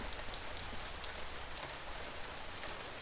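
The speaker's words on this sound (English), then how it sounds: "And right now it is pouring." Heavy rain pours down in Java, Indonesia, a dense, steady hiss of drops drumming on surfaces close by, continuous and loud with no voices.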